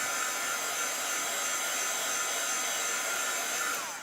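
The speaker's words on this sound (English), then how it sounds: "I'm also going to use my heat tool on this to just dry it" Heat tool blowing steadily over ink on a craft card, a constant close whooshing hiss of hot air that holds evenly for several seconds and fades slightly at the end, with no talking.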